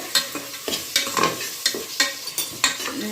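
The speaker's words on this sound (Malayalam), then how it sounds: "ഇഞ്ചി വെളുത്തുള്ളി പേസ്റ്റാണ് ഇട്ട് വെക്കുന്നത്" Ginger garlic paste fries in a pan for onion pulao, crackling and sizzling under repeated close, rhythmic scrapes of a stirring spoon.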